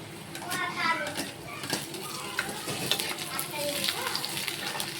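Onion and green chillies frying in hot oil make a steady broadband sizzle with occasional stirring scrapes and light clinks, close and moderately loud, with faint voices in the background.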